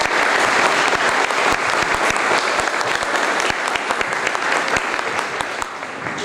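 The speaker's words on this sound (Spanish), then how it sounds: "Le damos un cálido aplauso por tu charla." Loud, close audience applause at a school book presentation after a talk, a full, continuous wash of clapping that holds steady for several seconds and then thins slightly toward the end.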